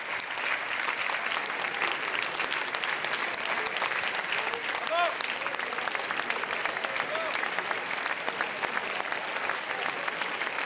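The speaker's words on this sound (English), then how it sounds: "applause which will sound out as the director enters into the movie theatre" A festival audience at the Cannes red carpet premiere applauds steadily as a film director enters the theatre, a dense, even wash of many hands clapping that holds for about ten seconds, with faint voices mixed in.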